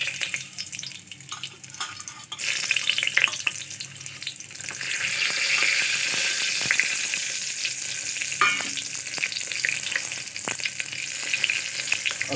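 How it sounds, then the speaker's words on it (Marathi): Whole spices frying in hot oil for a vegetable pulao give a steady, close sizzle with some stirring and scraping, and no voices. "मी तेल घेतलेलं आहे। आता आपण त्याच्यामध्ये खडा मसाला टाकणार आहोत"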